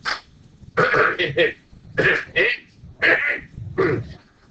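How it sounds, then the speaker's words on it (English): Someone clears their throat several times in a row, short harsh rasping bursts separated by brief pauses, close and loud. "Clear my throat there for a second."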